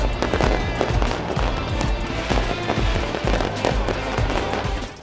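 New Year fireworks over Red Square in Moscow crackle and boom continuously, a dense, loud barrage of overlapping bursts and pops with no pause throughout.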